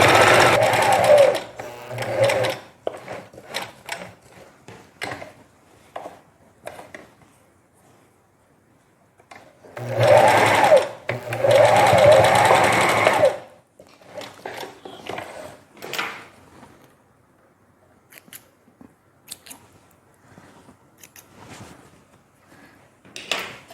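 A domestic sewing machine stitches the hem of a knit jacket in several bursts, quick buzzing runs separated by quiet pauses with small handling noises, close and clear.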